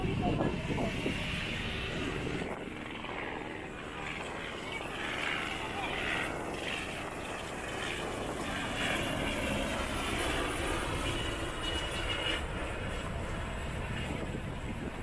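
Low rotor and engine drone of a helicopter passing overhead, sustained throughout, with people chatting nearby.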